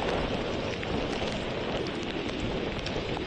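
Heavy rain pours down steadily and loudly in Japan, a dense, constant hiss with no pauses or voices over it.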